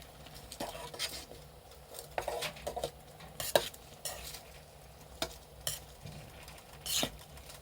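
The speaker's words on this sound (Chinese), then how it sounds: "搅拌一下。" Stirring scrapes and clinks in a pan while making pizza without an oven, a string of soft irregular utensil strokes against the pan with a faint sizzle underneath, close and fairly quiet.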